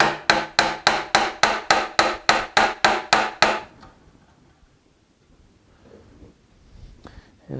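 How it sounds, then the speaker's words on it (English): A chisel hammered down through the metal ferrule of a Knew Concepts fret saw held in a vise, about a dozen sharp, evenly spaced blows in quick succession, loud and close, followed by quiet. "I want to chisel down, cutting through that ferrule."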